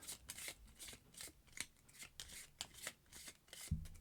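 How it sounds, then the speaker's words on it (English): Marvel Champions villain cards being shuffled by hand at a table, a brisk run of soft riffling bursts repeating close and clear, with no talking. "shuffle the villains together"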